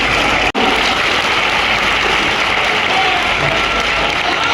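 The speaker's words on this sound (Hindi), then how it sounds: "सम्मान तालियों की जोरदार गड़गड़ाहट हमारे अभिभावक मार्गदर्शक के लिए।" Loud, dense applause from an assembled audience greets an honored guardian and mentor at a welcoming ceremony at Sampurnanand University, a steady roar of clapping that fills the whole stretch apart from one sharp momentary dropout near the start.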